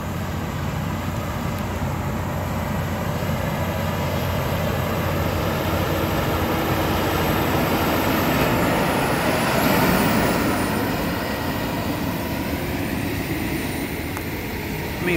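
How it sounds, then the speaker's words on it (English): A massive John Deere 9230 tractor working on a pond dig runs with a steady, even engine drone at a moderate distance, with a brief swell near the middle and no talk. "This tractor is just massive."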